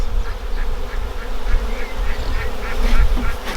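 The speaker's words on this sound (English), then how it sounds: "I've just accidentally kicked over a frame and pissed off the bees." A dense, steady buzzing of many disturbed honey bees close by after a hive frame is knocked over, continuous and agitated, with a low rumble underneath and no voices.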